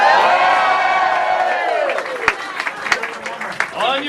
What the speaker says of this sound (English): Everybody give him a big cheer.